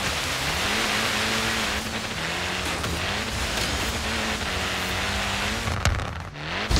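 Car engine revving in Forza Horizon 3, loud and close, its pitch climbing and dropping through gear changes with a sharp burst near the end.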